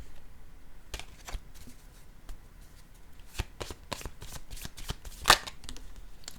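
A deck of cards is shuffled up close in a quiet room. Soft riffles and slaps come in short, irregular bursts, ending in one sharper snap.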